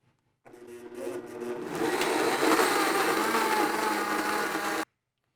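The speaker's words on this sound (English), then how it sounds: "So we're going to get the blender started." A blender whirs through pesto ingredients, starting abruptly, rising to a loud steady grinding roar for about four seconds, then cutting off cleanly.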